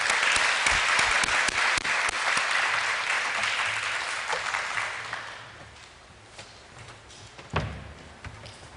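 A church congregation claps steadily in welcome for a missionary, a dense loud applause that thins and fades over the last few seconds, with a single thump near the end.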